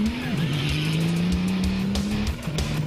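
Roofless rally car at the Dakar Rally, its engine holding a loud, steady high-revving drone with brief pitch dips at gear changes, close and alone, with tire noise underneath.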